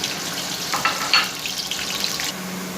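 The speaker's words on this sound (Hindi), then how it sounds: "तकरीबन ऑयल हमारा है 1 पाव के करीब 250 ग्राम। और अभी हम इसमें प्याज ऐड करेंगे।" Onions frying in about 250 grams of oil for beef pulav, a dense, steady sizzle with a few sharper crackles early on, no voices.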